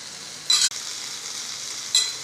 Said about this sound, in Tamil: சட்னி ரெடி பண்ணதுக்கு வதக்க போகிறேன். புதினா போடுறேன்